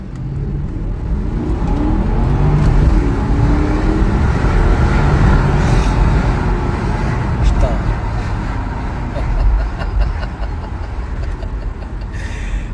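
A Porsche Cayenne driving on the road, its engine revving and droning steadily with tire and road roar throughout, loud and close from the cabin, with occasional faint clicks over the constant hum.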